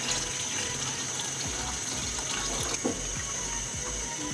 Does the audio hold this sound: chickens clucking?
no